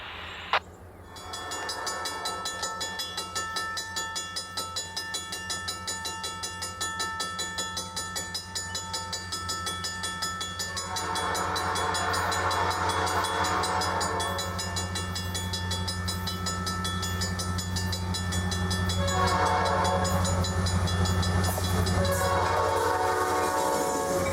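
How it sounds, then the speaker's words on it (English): A long freight train on the Bessemer and Lake Erie Railroad rumbles past steadily at Springboro, Pennsylvania, with rhythmic clicking wheels and a loud horn blast partway through, continuous and close. "Here we see our last train at Springboro, Pennsylvania."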